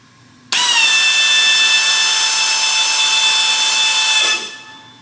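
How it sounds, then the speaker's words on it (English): A power drill spins an engine's oil pump to prime the engine with a pre-filled oil filter, a loud steady high-pitched whine starting abruptly, holding for several seconds, then winding down. "watch what happens as soon as I start the drill"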